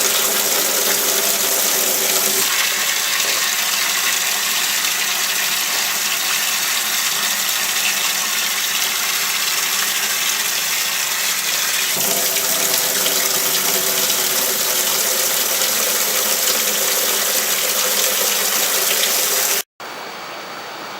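Running tap water pours steadily and loudly over blackworms being rinsed, a continuous close gush with slight shifts in tone before cutting off abruptly near the end.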